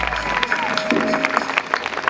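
A crowd applauding at a tribute concert, a steady wash of clapping from an audience with a voice speaking over it.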